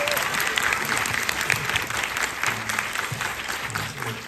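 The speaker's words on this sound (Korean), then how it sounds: "한번 박훈정 감독님께 박수 한번 보내줄까요?" Applause for a film director at a Korean cinema screening event, a short burst of steady clapping from the seated audience, moderately loud and even throughout.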